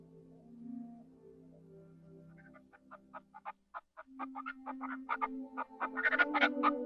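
Chickens cluck in a series of short, quick calls that grow denser and louder, following a low sustained tone at the start.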